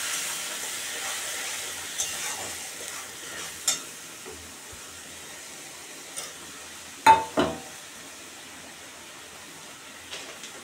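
Spice paste of onion, ginger, garlic and dried and green chilli sizzles faintly in a pan for katla fish kalia, a soft steady fry with a few sharp stirring scrapes.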